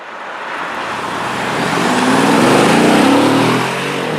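A Mercedes-Benz E63 AMG S wagon accelerates hard up an on-ramp, its engine note swelling loud and rising in pitch, then easing off near the end with no talking.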